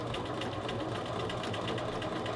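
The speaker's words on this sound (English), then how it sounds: "I'm going to sew down and terminate the seam at 5/8 of an inch." A sewing machine stitches a men's shirt collar band to its facing in lightweight fabric at a short stitch length, giving a steady, fast mechanical whir with even needle pulses throughout, close and fairly quiet, with no talk.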